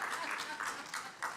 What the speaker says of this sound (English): I love that I got applause for that.